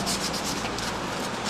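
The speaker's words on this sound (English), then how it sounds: "we're going to go ahead and start this one, get this sanded" Steady, close sanding scratches across filled crack repair on a Marvin Ultrex fiberglass window frame. Continuous abrasive rubbing with no pauses and no voices.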